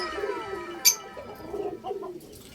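Fire blue opaline African lovebirds call in short chirps and squawks, with one sharp, loud call standing out near the start and softer calls following, close by with no talk.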